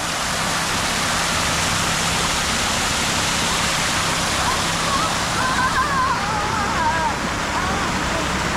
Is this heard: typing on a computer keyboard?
no